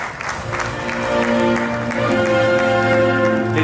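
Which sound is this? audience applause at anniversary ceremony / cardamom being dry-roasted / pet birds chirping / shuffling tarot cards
audience applause at anniversary ceremony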